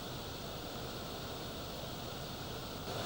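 Broadband roar of the Ullim waterfall, a steady, dense wash of falling water filling the whole clip at constant level with no pauses or voices.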